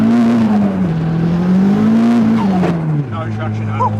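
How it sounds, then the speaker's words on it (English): A 300hp Toyota Starlet with blown shock absorbers revs hard and spins its tires with no traction, a loud, steady engine drone that wavers in pitch and drops near the end, with voices talking over it. "No, it just spins the tires."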